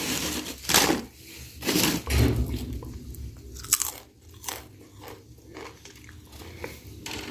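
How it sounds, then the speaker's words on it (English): Loud, close crunching of a crisp snack being bitten and chewed, coming in repeated bursts of crackly bites with short pauses. "So you can hear that crunch"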